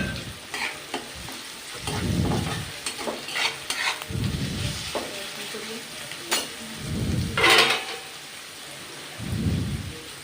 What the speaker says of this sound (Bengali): 2-3 মিনিটের মতন ভেজে চিংড়ি মাছটা দিয়ে দিলাম।